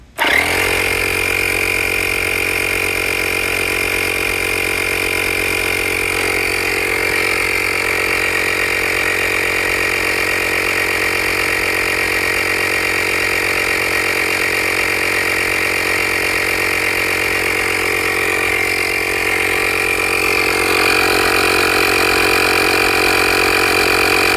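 A Hyper Tough air compressor runs continuously for the whole stretch, a loud steady motor drone with a constant pumping hum as it builds pressure, close by and with no one speaking.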